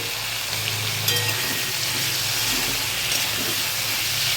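Green chili and ground cumin frying in hot oil, a steady, loud sizzle with a constant hiss throughout and a few soft stirring scrapes.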